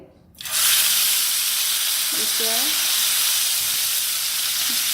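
Chicken pieces hit hot oil in a pan, setting off a sudden loud sizzle that stays steady and close, with a couple of faint tonal squeaks midway and no talking.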